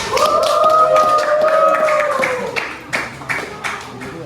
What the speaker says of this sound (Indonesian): bawa tepuk tangan buat Fajar